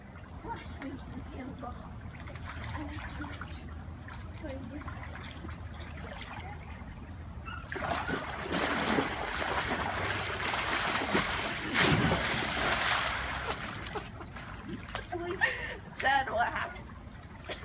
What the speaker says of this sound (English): we did go swimming in the pool, and it looked something like this